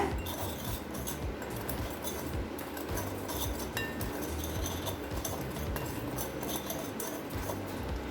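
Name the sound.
mixing coriander rice with taro in a pan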